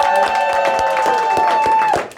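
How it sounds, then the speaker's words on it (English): A studio audience claps and cheers in sharp scattered bursts beneath a sustained tonal musical sting, fairly loud throughout and cutting off near the end. "Give them a round of applause to the audience."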